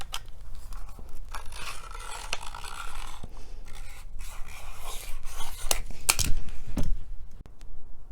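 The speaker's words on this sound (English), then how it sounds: "To cut plexiglass, you just score it with a box knife." A box knife scoring a sheet of plexiglass for a garage door window repair, giving a steady, close scraping and scratching run of repeated strokes, fairly quiet, with no talking.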